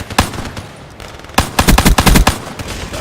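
Rapid bursts of automatic gunfire in a first-person shooter game, with a short shot early and then a loud, closely spaced volley cracking near and sharp, no talk over it.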